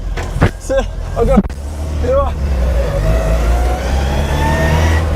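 Rebuilt engine of the Big Bogie vehicle runs and pulls away on a test drive, a steady close rumble with rising tonal whine that follows a few seconds of speech.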